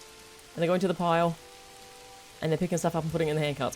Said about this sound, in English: I accidentally left them out in the rain. They're getting soaked.